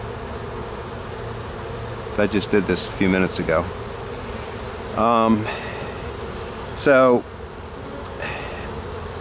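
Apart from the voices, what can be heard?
honeybees buzzing in hive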